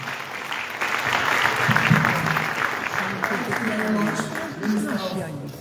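Applause for a minister at a public gathering with Sierra Leone's vice president, steady clapping with voices and murmuring mixed in beneath the claps.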